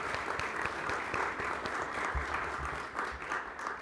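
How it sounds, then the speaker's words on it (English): A room full of people at a club luncheon event claps for the sponsors, a steady, moderately loud burst of applause lasting a few seconds with no voices over it. "A round of applause for our sponsors."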